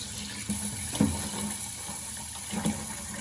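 Tap water runs steadily into a kitchen sink at home while rice is being rinsed, a continuous close splashing hiss with no voices.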